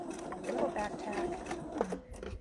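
Sewing machine stitching a Miyako bag, a quick rapid rattling hum of the needle running briefly under a person talking nearby.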